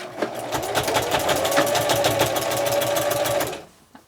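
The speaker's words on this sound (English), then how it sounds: "I'll sew a little way so that you can see what this does for you." A sewing machine stitching quilt binding runs at a steady, rapid mechanical chatter, close and loud, for several seconds before stopping abruptly.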